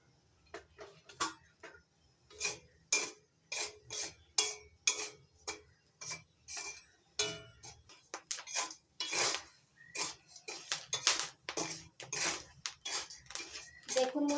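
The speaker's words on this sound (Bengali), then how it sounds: "ছোলাগুলো কত সুন্দর ফাটছে, শব্দ হচ্ছে কত।" Chickpeas crackle and pop while being stirred in hot salt in a pan: dense, irregular sharp clicks and small bursts, close and fairly loud, with no speech.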